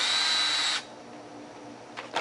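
A power drill driving screws into a wooden sawhorse whines loudly and steadily up close, then cuts off, followed by faint handling sounds.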